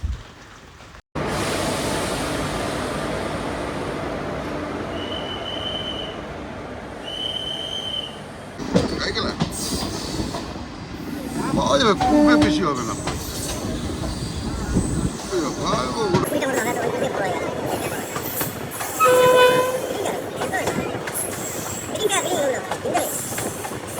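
A train bound for Rampurhat, on the Bardhaman to Bolpur Shantiniketan line, rumbles loudly and continuously up close, with two short horn blasts early on, clattering wheels and metallic squeals building through the run.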